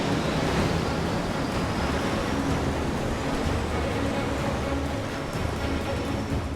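Ocean surf crashes and rolls continuously around a lifeboat working close inshore in the surf line, a loud, broad wash of breaking waves mixed with wind buffeting the microphone.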